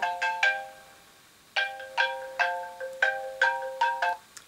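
A mobile phone ringtone plays close and clear, a bright repeating pattern of chiming tones in quick groups, ringing on with no talking.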